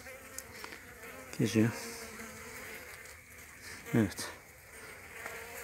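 Honey bees hum steadily over a brood frame of capped cells where the queen is walking, with someone talking briefly over the buzzing.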